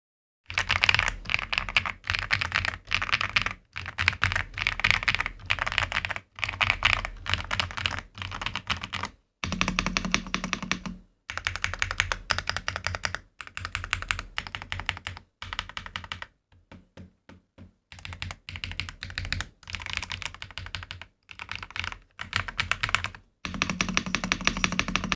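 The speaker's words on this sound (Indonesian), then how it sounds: "sekarang saatnya adalah typing test." Fast mechanical keystrokes from an Ajazz AK820 GTS Pro keyboard during a typing test, with dense clacking bursts that pause briefly now and then. The sound is close and steady, with no talking.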